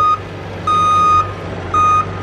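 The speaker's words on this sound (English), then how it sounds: "Truck." A truck's reversing alarm sounds three steady electronic beeps, evenly spaced and loud, over a low rumbling engine at a land-clearing site.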